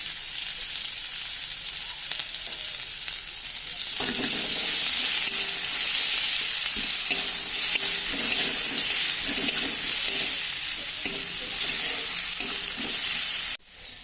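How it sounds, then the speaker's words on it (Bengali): Chopped onions frying in hot oil with cumin and bay leaf, a steady, loud sizzle, occasional stirring scrapes and clinks breaking through the crackle. "পেঁয়াজ ভাজা হয়ে গেছে"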